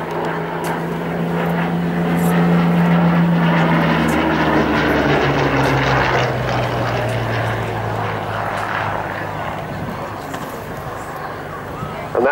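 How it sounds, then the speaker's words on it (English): Early Rolls-Royce Merlin 3 aircraft engine running at an air show, a loud, continuous propeller-engine drone whose pitch slides downward as the aircraft passes, with people talking faintly beneath it. "And that is an early Merlin engine, a Merlin 3."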